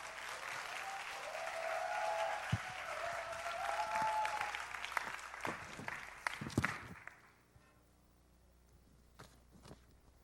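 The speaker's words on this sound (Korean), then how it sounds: "우리 나올 때 같이 우리 환영의 박수 한번 치겠습니다" Church congregation at a Sunday service clapping in welcome, a steady wash of applause that fades out after about seven seconds, leaving a quiet room with a few faint knocks and shuffles.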